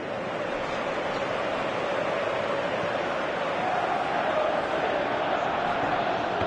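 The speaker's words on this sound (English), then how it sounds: "you can hear how the crowd are reacting to this too" A large crowd in the football video game Pro Evolution Soccer 2018 on PS4 roars and murmurs continuously in a broad wash of noise, swelling slightly toward the end.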